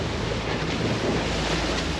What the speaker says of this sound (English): a day like today that's kind of windy and choppy